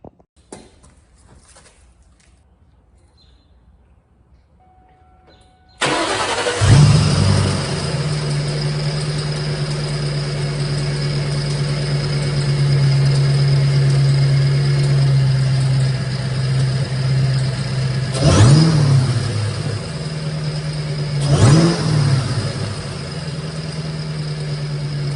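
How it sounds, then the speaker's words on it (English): A Cobra sports car engine cranks and fires up after a quiet moment, settling into a steady, rumbling idle, with two short revs of the throttle toward the end. "let's give her a startup so that you guys can hear what the engine sounds like"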